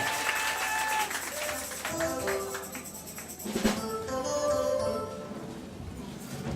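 Church congregation clapping and cheering in acclaim during a worship service, a steady dense wash of applause with scattered voices and shouts throughout.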